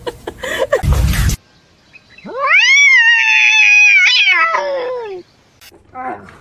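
A cat lets out one long, loud, drawn-out meow, framed by brief rustling and handling noises.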